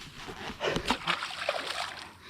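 A 25.5-inch walleye slipped back into a Saskatchewan lake from shore, with close splashing and sloshing water over a couple of seconds and a voice faintly in the background.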